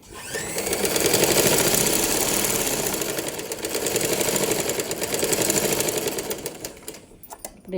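Sewing machine stitching along folded cloth, a close, rapid mechanical whirring with fast needle ticks, rising and easing in two long runs before stopping near the end.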